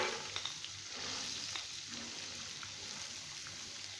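Chana dal frying in melted ghee over medium-high heat in a pan, a steady close hiss and crackle of sizzling with faint stirring clicks, no voices.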